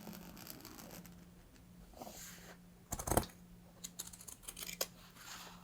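Scissors snipping through scrap fabric to cut a zipper flap, a few quiet crisp cuts clustered toward the end, each a short rasping crunch over a faint background hum, no talking.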